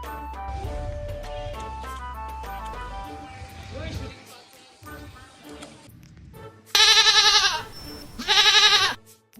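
A goat bleats twice in loud, wavering calls close by, following a stretch of people talking outdoors.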